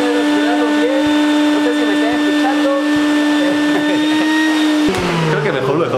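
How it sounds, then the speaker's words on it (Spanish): A loud vacuum cleaner drones at a constant pitch, then its motor tone drops and changes abruptly near the end. "Te da miedo la aspiradora, gordo."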